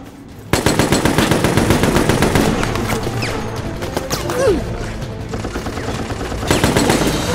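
Sustained automatic gunfire in the co-op shooter Resident Evil: Operation Raccoon City, dense rapid bursts that run almost continuously, loud and close, with occasional sharp impacts and a brief swooping effect partway through.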